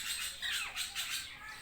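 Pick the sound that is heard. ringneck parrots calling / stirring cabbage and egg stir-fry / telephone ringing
ringneck parrots calling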